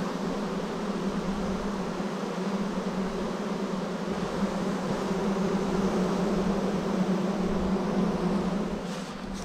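A constant low droning hum of aggressive bees around a new hive, fairly loud and unbroken throughout, with a faint hiss over it.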